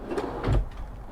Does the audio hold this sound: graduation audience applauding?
no